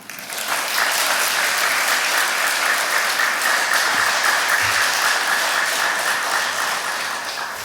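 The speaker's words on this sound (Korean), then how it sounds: "다시 한번 우리 박수로 우리 교수님" A church retreat audience applauds a professor, a broad, even wash of clapping that swells in quickly and holds steady at full strength, with a couple of low thumps partway through.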